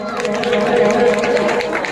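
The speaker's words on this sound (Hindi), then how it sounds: "एक बार जोरदार तालियों से सुनील सर और राजेश सर के लिए ताली बजाओ" Audience clapping for two teachers at a school annual function, a steady dense round of applause from a large crowd with some chatter mixed in.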